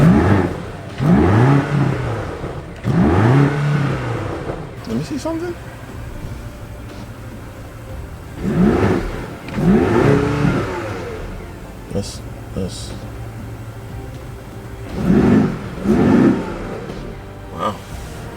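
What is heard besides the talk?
BMW car engine revving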